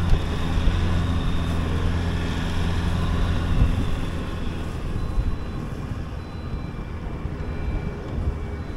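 Strong wind roars across the microphone as a vehicle drives out onto a frozen lake for ice fishing, a steady low rumble and buffeting with engine drone underneath and no talk.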